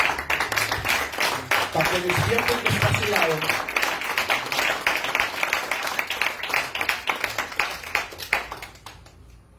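A church congregation claps steadily, loud and rhythmic at first, then thinning and fading away, while a preacher talks over it and music briefly sounds beneath.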